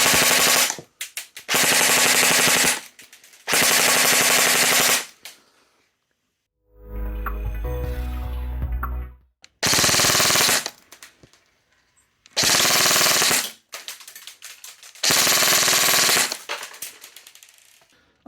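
Specna Arms SA-FX01 FLEX AR-9 airsoft SMG fired in a shooting test, heard as loud full-auto bursts of roughly one to two seconds with short gaps, plus one sustained mechanical whirring stretch midway.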